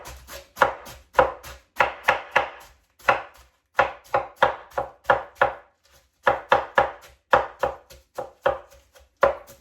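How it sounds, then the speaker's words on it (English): Green cabbage being shredded with a knife on a board for sauerkraut, a brisk run of sharp rhythmic chops in quick bursts with short pauses, close and clear, no talking. "now I'm gonna just go ahead and shred my green cabbage"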